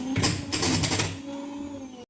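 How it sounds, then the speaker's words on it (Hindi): An electric hand beater blends boiled mustard greens with spinach for sarson ka saag, a short, close whirring motor hum with choppy, wet churning bursts that cuts off at the end. "हैंड बीटर से ब्लेंड।"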